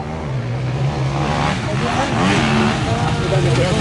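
Rally car on a special stage of the Rand'Auvergne 2025 rally, ES4, engine droning loudly and steadily throughout, pitch rising and falling as it revs near the start, with an announcer talking over it.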